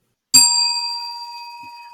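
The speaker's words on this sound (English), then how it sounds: "I'm ringing a bell for one reason and one reason only" A single bright bell strike rings out close by, its clear metallic tone slowly fading over a couple of seconds.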